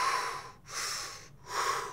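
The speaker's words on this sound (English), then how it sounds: "that was diaphragmatic hyperventilation, not breathing" A man demonstrates diaphragmatic hyperventilation with forceful, airy breaths in and out, three close rushes separated by brief pauses, loud and near with no talking.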